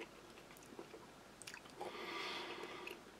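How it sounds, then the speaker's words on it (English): Chewing on firm, rubbery dried barbecue-flavoured meat from a British Army single meal ration, soft close-up squishy chews and small bites, quiet and intermittent, no voices. "Does feel like you're chewing a dried meat."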